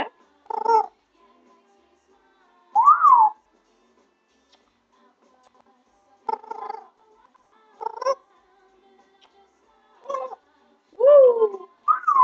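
An African grey parrot makes a series of short whistles and squeaky calls, about eight separate bursts spaced by silence, close and fairly loud.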